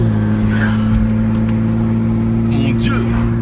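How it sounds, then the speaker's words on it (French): A loud car engine droning close by for a few seconds, steady and heavy, with a voice speaking briefly over it. "Mon Dieu, cette voiture est bruyante"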